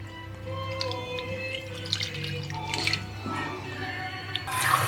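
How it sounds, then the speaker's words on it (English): Water poured from a kitchen container into a pan holding peppered Christmas pork belly, heard as a steady splashing trickle with scattered drips, close and moderately loud over a low kitchen hum. "I'm gonna get some water and we put some water in it on the bottom."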